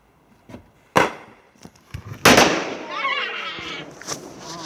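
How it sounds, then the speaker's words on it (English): Fireworks including a cherry bomb go off outdoors: several sharp cracks, then a louder bang followed by crackling and whistling fizz, with voices faintly in the background. "Uncle Cam, did you do the cherry bomb yet?"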